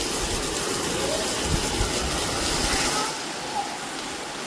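Heavy monsoon rain pours down steadily as a dense, broadband hiss close by, with a person speaking over it and the rush easing slightly toward the end.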